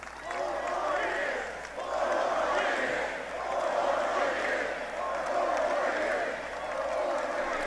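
Noisy rally crowd in Ohio picked up by a crowd mic, a loud roar of cheering and shouting voices swelling and dipping in waves throughout.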